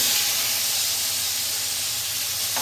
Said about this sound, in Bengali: আর এখন হচ্ছে দিয়ে দিব আগে থেকে কেটে রাখা এই শসাগুলো।